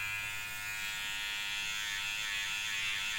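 A Kemei 1971 skeleton hair trimmer, rated around 6,000 RPM, runs with a steady, close, high-pitched electric buzz and whine, unbroken and without speech.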